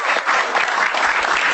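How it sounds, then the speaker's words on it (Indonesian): An audience at a stand-up comedy show claps in a brief, loud burst of applause, dense and continuous for a moment. "tepuk tangan untuk Jui"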